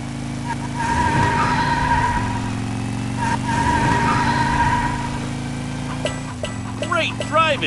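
Race car engine drone with tire skids from the PJ Masks: Hero Academy video game, where Owlette drives on a self-built race track. A steady engine hum runs throughout with sweeping tonal effects, and bright chirpy game sounds join near the end.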